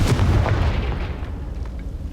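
Confringo fire-blast spell cast in the video game Hogwarts Legacy, a loud rumbling boom that rolls and slowly fades over two seconds.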